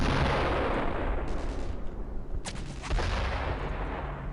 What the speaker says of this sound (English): Watch out! I'm throwing a grenade!